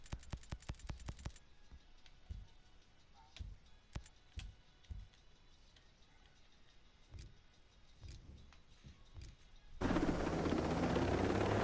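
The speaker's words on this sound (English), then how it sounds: "the helicopter is way too loud for me." A helicopter in the video game Ghost Recon Breakpoint thrums as a steady rotor drone under scattered clicks and thumps, then surges into a loud rushing roar near the end.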